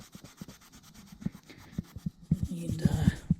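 A Scotch-Brite pad rubbing a BMW K100 motorcycle part, quiet close scrubbing strokes in an uneven rhythm that grow denser and louder toward the end.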